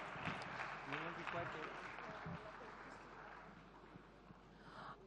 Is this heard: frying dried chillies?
no